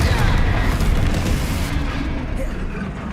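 Confringo blasting curse exploding in Hogwarts Legacy, a loud, dense rumbling blast that holds for a few seconds and slowly fades, with a voice faintly mixed in.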